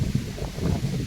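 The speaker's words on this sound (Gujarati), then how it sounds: "બહુ પવન છે" Strong wind blows outdoors on a farm, producing a steady, rumbling buffet against the microphone for a brief moment.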